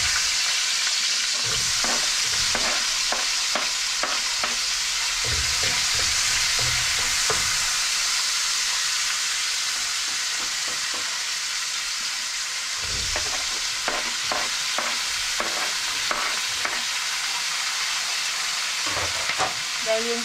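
Onion, garlic, tomato and ginger sauté in a pan under a continuous hissing sizzle. A utensil knocks and scrapes in bursts of rapid stirring with quieter pauses between, steady and close with no voices.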